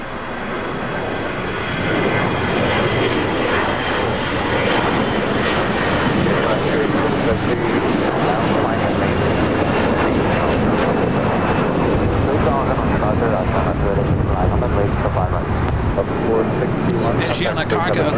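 A China Airlines Boeing 777 jet taxis at LAX toward the gate, giving a steady, broad engine roar with wind noise that holds at a constant level throughout, with faint radio chatter underneath.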